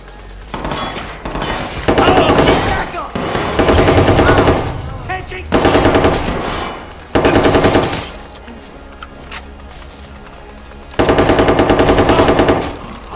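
Bursts of rapid machine gun fire rattle loudly in the Watch Dogs 2 video game, several sustained volleys broken by brief pauses.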